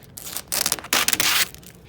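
Chrome vinyl wrap peeled off a Mitsubishi 3000GT VR4 body panel, giving close, loud rasping tears in two main pulls, the second longer and stronger, with no talking.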